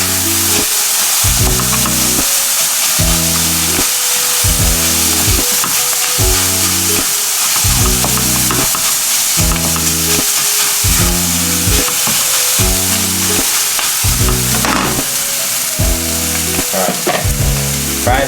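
Food frying in a pan with soy sauce, cinnamon and pink salt, a loud continuous sizzle with a regular rhythmic knocking of stirring strokes repeating throughout, close and with no talk.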